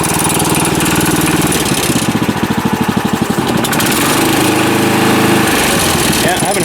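An old garden tiller engine, bought secondhand, runs just past idle, a loud close chugging putter whose rhythm speeds up and steadies over several seconds, with a voice speaking briefly.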